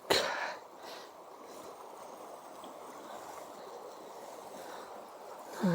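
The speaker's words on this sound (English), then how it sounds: "Well, here we are, Arquilla Creek." Arquilla Creek runs along the Manistee River Trail, its water flowing as a faint, steady wash of broadband rushing. A brief louder rustle comes at the start and another at the end.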